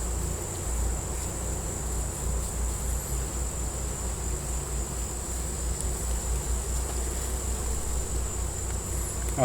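Honey bees in an open, crowded hive full of brood hum in a steady, low, continuous buzz. It is fairly faint and even throughout, with a high constant tone above and no speech.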